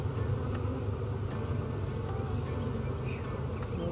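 A honey bee colony hums with a steady, dense buzz close at hand, a continuous drone of many bees that holds without break from start to finish.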